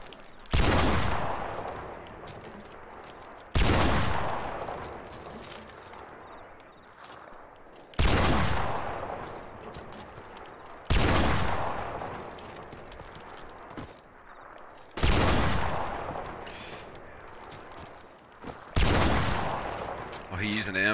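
Loud gunshots in Call of Duty Modern Warfare Remastered during a 1v1 quickscope match, single sharp cracks spaced every few seconds with short echoing tails, no talk between them.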